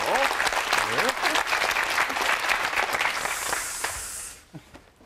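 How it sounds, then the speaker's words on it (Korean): An audience at an education forum in Daejeon breaks into loud, dense applause while a voice talks over it, and the clapping then tapers off sharply near the end. "우리 다 같이 박수 한번 주시죠"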